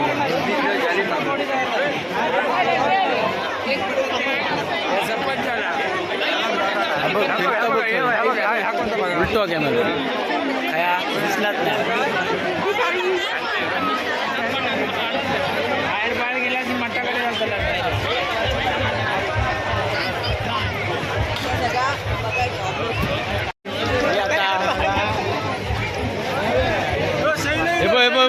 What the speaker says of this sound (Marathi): खाऊ गल्लीतली गर्दी कशी वाटली